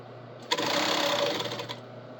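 A sewing machine topstitches an apron in one short burst of about a second and a half. The rapid mechanical whirr starts abruptly, holds steady, then winds down, with no talking.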